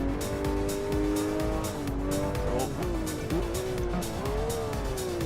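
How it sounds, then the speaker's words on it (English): Engine in a racing sim game screams through sustained high revs after an overly aggressive downshift into first gear, its pitch sweeping and wavering continuously under a loud, steady mix of tire noise. "I shifted down too much and I went to first gear. I massively over-revved it."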